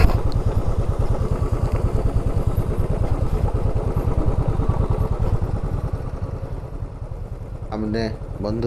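A Royal Enfield Classic 350cc motorcycle climbs a rough off-road trail toward a waterfall in Meghalaya, its steady thumping single-cylinder beat loud and close throughout, with brief clatter near the end.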